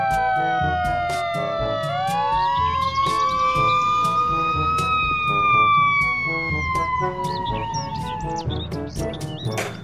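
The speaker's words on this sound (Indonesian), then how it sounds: "Truk tangga pemadam kebakaran." A toy fire ladder truck sounds its siren, a loud wailing tone sweeping up and down over a bouncy rhythmic music track.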